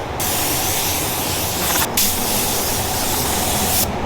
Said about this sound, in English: spray our base coat